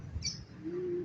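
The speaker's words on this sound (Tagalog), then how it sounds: "Sus, ang daming kalapati." A flock of racing pigeons at a loft during the final lap of a pigeon race in Masbate gives a brief, soft low coo under a faint high chirp, close and quiet.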